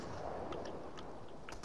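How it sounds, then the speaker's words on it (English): Gunfire in the video game Fortnite, heard as a few faint, distant shots over a steady low background with no one talking. "Did you just shoot at him?"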